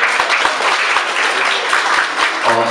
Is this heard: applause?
yes